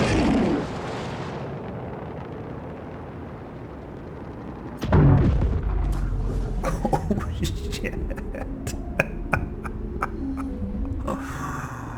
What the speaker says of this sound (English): Missile lock. And fire away.